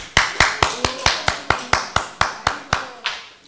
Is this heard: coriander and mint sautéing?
no